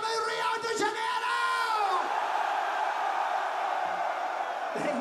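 A huge stadium crowd at a concert at Rock in Rio screams and roars in a sustained wall of sound, with a few nearby yells rising above the mass of voices.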